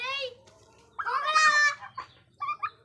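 A turkey clucks and gobbles in a few short bursts, close by, with quiet pauses between the calls.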